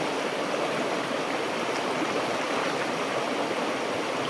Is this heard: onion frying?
no